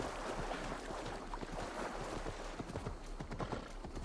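A horse's hooves clip-clop in Assassin's Creed Valhalla, a rapid, steady run of hoofbeats over a dense wash of wind and water ambience, fairly close and continuous throughout.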